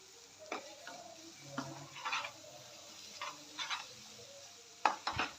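Sautéing in oil in a pan, with a spoon scraping and stirring in irregular strokes over a soft, steady sizzle, fairly quiet and close.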